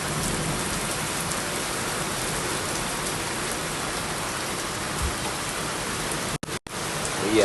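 Intense rainstorm with flooding all around, a loud, steady roar of heavy rain hammering down nearby, with a couple of brief dropouts near the end.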